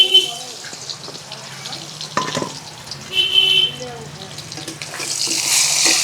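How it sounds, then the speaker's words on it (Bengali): Stuffed pointed gourds (potol), salted and coated with turmeric, frying in hot oil, with a soft crackling sizzle running steadily under a voice speaking between brief clatters of utensils. "এবার আমরা এটাকে দিয়ে দেবো তেলে ভেজে নেবো সুন্দর করে"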